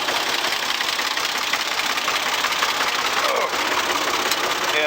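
A 45 hp Ford 4000 tractor running in sixth gear while pulling a vertical tillage tool, giving a constant loud rumbling engine drone with rattling noise. It is heard close up, with no voices.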